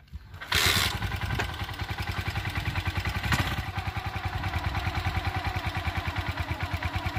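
A clutch-type motorcycle engine catches and runs during a riding practice session, settling into a close, rhythmic putter with regular pulsing beats and a brief rev partway through, with no talking.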